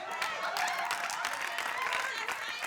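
A studio audience claps in a dense, sustained burst of applause, with crowd noise and voices mixed in throughout.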